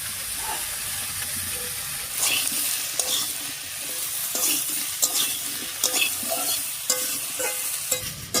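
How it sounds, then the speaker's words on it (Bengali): Jackfruit and potato frying in a little oil in a wok, a continuous close sizzle broken by repeated scraping strokes of a spatula every second or so, with no voices. "কাঁঠাল আর আলুটা অল্প তেলের উপরে দিয়ে হালকা লাল করে ভেজে নিয়েছি"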